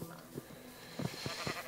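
Several short Minecraft sheep bleats come in quick succession over a noisy game background, fairly faint and close together.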